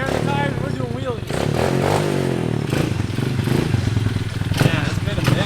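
A motorcycle engine idles with a steady low rumble and light mechanical clatter, heard close by under ongoing talk.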